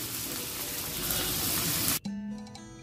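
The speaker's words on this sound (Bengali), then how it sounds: "আর এখানে পেঁয়াজটা ভাজতে দিয়ে দিলাম" Onions sizzle loudly as they fry in a pan, a dense steady hiss that cuts off abruptly after about two seconds, leaving a quieter hum.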